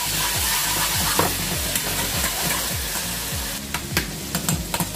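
Tomato frying with onions in a pan, a loud continuous sizzle and crackle with rhythmic low scraping strokes of stirring throughout.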